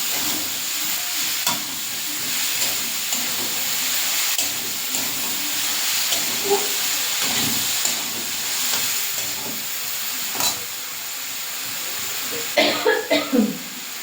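Chili and cumin powder fry in a pan for a village-style banana-flower curry, with steady sizzling and stirring, scattered clatters, and a burst of louder sizzle and bubbling near the end as water goes in.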